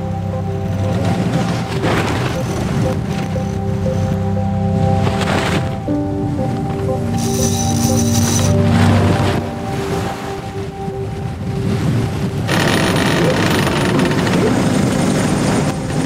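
Gusty wind roaring across the microphone on a sailboat at sea, over the wash of waves and a low boat engine hum, continuous and fairly loud with no talking.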